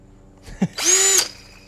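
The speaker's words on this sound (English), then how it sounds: "Power 2 is so fast that, as you can see, it's spinning itself out of orbit." A small electric screw turner whirs at its fast second power setting, a short high-pitched motor burst of about half a second that spins a screw, preceded by a brief click, close and loud with no talk.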